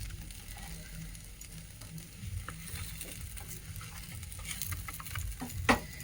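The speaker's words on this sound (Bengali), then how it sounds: "এইভাবে আমি প্রত্যেকটা ক্ষীরের পাটিসাপটা এইভাবে ভেজে নেব" Kheer patisapta, thin rolled Bengali crepes with a sweet milk filling, frying in a pan, a quiet continuous sizzle with light spatula taps and scrapes and one sharp clink near the end, no voices.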